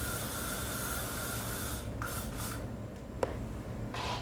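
A steady hair spray hiss, broken by a couple of short bursts and a small click, close and moderately loud.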